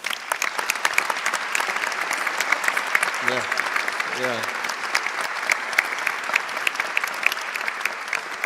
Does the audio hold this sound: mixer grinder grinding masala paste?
no